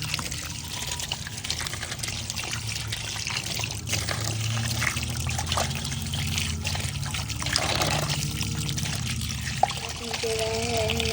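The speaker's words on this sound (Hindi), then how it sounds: "करेलों को हमने नमक लगा के रखा था, उसे हम अब वॉश करेंगे।" Running water trickles and splashes steadily as salted bitter gourds are washed by hand, with voices talking over the continuous pouring.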